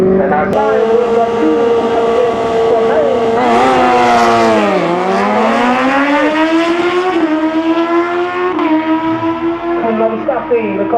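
A Golf and an Opel drag racing cars launch at a strip, loud engines revving hard with rising and falling whines through gear changes, close and continuous, with no talk over them.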